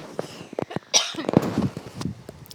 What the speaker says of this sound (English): I'm getting cough, I'm sorry